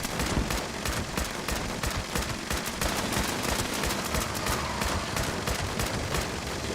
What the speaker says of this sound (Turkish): Millet son seviye silahlarla sıkıyor.